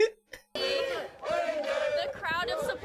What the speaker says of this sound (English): The crowd of supporters for Tommy waiting outside to hear the